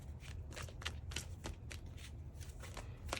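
A deck of tarot cards being shuffled close up, with a steady run of soft riffling flicks and slaps repeating throughout, no voices.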